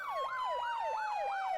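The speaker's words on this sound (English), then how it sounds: "They have two siren tones, or two different sirens for the vehicles." A wailing emergency vehicle siren from the Emergency 4 video game with an Upstate New York mod cycles up and down in a steady repeating sweep, loud and continuous, with a faint steady tone underneath.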